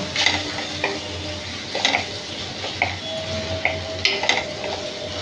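Onion and coconut paste is stirred and sautéed in a pan, with a steady low sizzle and scattered scraping clicks of a spoon against the metal.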